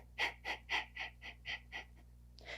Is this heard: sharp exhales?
yes